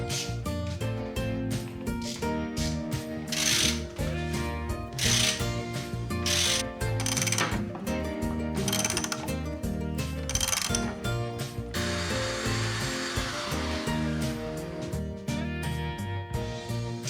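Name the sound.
reamer cutting into Shovelhead motorcycle engine part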